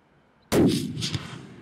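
A single loud rifle shot cracks out during a hunt at about 150 yards, hitting suddenly and then fading into a long rumbling echo.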